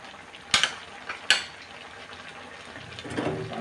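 Catfish stir-fried with fresh green peppercorns in a Thai pan, a couple of sharp scraping stir strokes over a soft steady sizzle that rises again toward the end.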